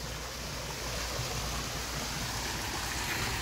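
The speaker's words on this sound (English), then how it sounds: "Waterfalls." Water from a waterfall feature at a park fountain pours in a steady, even broadband rush, close and continuous with no voices.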